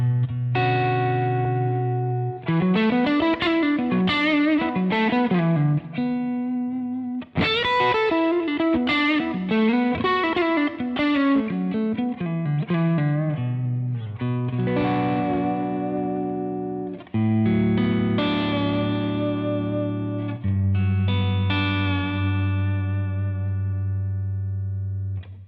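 A 2021 PRS Studio electric guitar is played through its pickups with a driven, effected tone: chords and fast melodic runs ring out loud and continuous, and sustained low notes close the passage.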